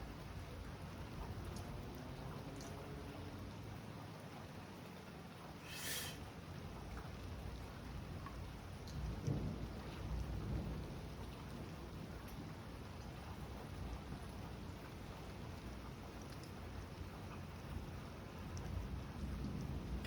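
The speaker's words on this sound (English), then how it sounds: "can still hear the rain" Steady rain falls during a severe thunderstorm in the northeastern United States, a continuous hiss of drops with a faint low rumble and a brief gusty burst near the middle, with no voices.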